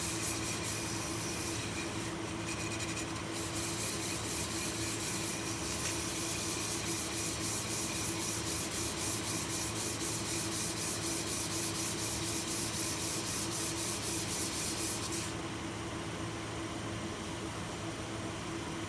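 Steady continuous rubbing hiss of 320 grit sandpaper worked against a piece spinning on a lathe, a constant close abrasive whir with a faint mechanical hum underneath, no talk.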